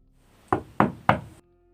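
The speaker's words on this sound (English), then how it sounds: "they heard 3 loud bangs on their door" Three loud, evenly spaced knocks bang on a wooden door, close and sharp, followed by silence.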